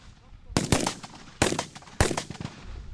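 Three sharp Kalashnikov rifle shots, fired in single-shot mode at a firing range, ring out at irregular intervals, loud and close, each with a short echoing tail.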